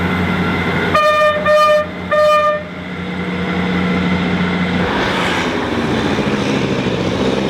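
A train running to Carnoustie in Scotland, near the Tay Bridge, sounds three short horn toots close together, then a steady rumbling run with a gentle wash of noise toward the end.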